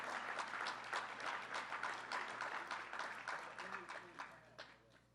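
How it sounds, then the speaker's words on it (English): Applause at a public announcement about Penn Station renovations, a crowd clapping steadily for an assemblymember's birthday, fairly distant and soft, tapering off toward the end as a few voices murmur underneath. "let's give him a big round of applause."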